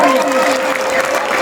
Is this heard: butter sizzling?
no